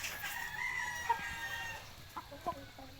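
Brahma chickens heard fairly faintly, with a drawn-out rooster crow at the start followed by a few short, scattered clucks near the end, no talking.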